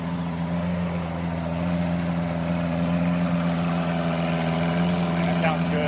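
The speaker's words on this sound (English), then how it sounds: "That sounds good. It's a nice hum." A Lamborghini Aventador's engine idles close by with a steady, even low hum and faint mechanical whine, holding a constant level without revs.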